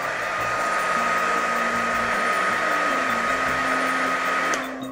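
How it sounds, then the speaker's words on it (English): A handheld hair dryer runs on a low heat setting to loosen a bandage's adhesive, a loud steady whooshing whine with a constant tone that shifts pitch slightly before cutting off abruptly near the end. "Use the hairdryer on a really low heat setting for just a couple of seconds."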